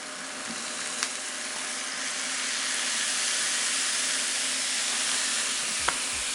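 Tofu sizzles and fries steadily in a pan with soy sauce poured over it, a continuous close hiss that builds slightly, with a couple of faint clinks and no talking.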